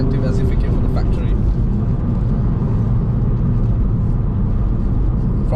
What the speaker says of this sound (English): you can hear the exhaust tone more in this